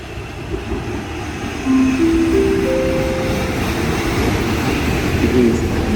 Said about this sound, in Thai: มาแล้วครับขบวน 417 ที่สถานี